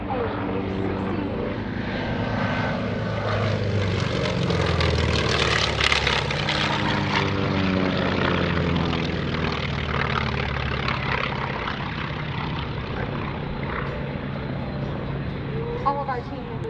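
A T-28 Trojan propeller plane flies aerobatics at the EAA AirVenture 2018 airshow, its loud engine drone rising and falling in pitch as it sweeps past, under public-address commentary.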